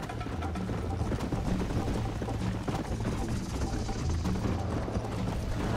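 Horse hooves galloping in Red Dead Redemption on Xbox 360, a steady rapid clip-clop rhythm that is fairly loud and continuous, mixed with rumbling game ambience and no talking.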